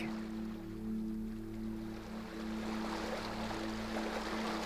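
Ocean waves wash in a steady, continuous roar of broadband surf that swells slightly toward the end, with a low steady hum underneath and no voices.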